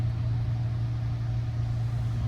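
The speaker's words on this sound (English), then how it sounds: "even with all this car wash going on" An automated car wash runs around a Tesla Cybertruck in Flower Mound, Texas, heard from inside as a steady, loud low hum and rumble with no break.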